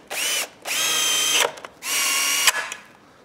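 A power drill drives 100 mm screws into a wooden fence post to mount a hinge, with three close, loud whirring bursts separated by short pauses and a click.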